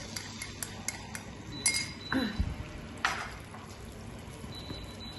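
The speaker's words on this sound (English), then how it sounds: "we're going to put in our crushed garlic with our garlic oil that we've got" Crushed garlic with garlic oil goes into a pan, heard as close clinks of a metal utensil and spoon against the pan, a soft liquid pour and scraping stirs.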